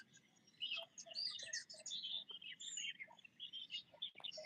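Several wild birds chirp and tweet outdoors in a rapid, overlapping series of high calls. The calls are fairly faint and come in bursts with short gaps, over a quiet background and no talk.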